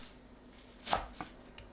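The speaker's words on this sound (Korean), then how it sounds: "씻은 쑥갓은 4cm 길이로 썰어줍니다" Knife cutting washed crown daisy (ssukgat) into short lengths on a cutting board: one sharp, close chop, then two fainter taps, in a quiet kitchen.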